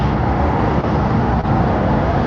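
Continuous road traffic noise on a hot, humid street, a dense, even roar of car and heavy vehicle engines with no single vehicle standing out.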